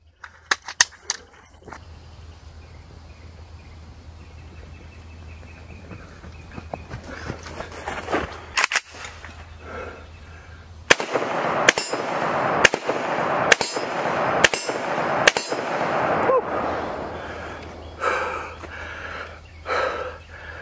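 Sharp, loud AK-47 semi-automatic rifle shots crack outdoors during a match run: a few scattered shots come first, then a rapid string of about eight evenly spaced reports, with shuffling and movement sounds between them.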